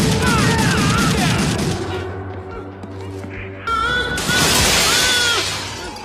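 Film shootout gunfire, a loud dense volley of shots with crashing impacts and echoing booms, easing briefly before another intense burst of firing.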